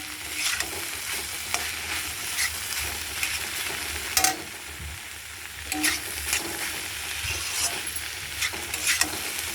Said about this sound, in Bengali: দেখো বন্ধুরা, ভাজা ভাজা করছি